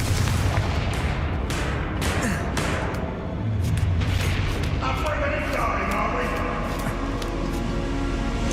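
The Confringo fire spell in Hogwarts Legacy bursts in dense, booming blasts over a constant roar of game noise and music, loud and close and stacked in quick succession, with a voice talking faintly underneath.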